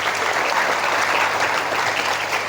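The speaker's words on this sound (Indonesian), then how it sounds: "Tepuk tangan untuk beliau-beliau hari ini." Sustained applause from a seminar audience honoring teachers at a motivational event for students, a steady dense clatter of many hands that holds loud and even for the whole stretch with no talk over it.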